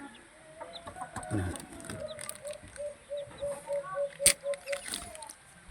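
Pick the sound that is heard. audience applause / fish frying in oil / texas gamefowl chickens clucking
texas gamefowl chickens clucking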